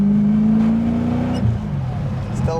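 A BMW E30 coupe with a swapped-in M60B44 V8 idles and hums steadily while warming up, its engine note dipping and wavering slightly, heard close from inside the car.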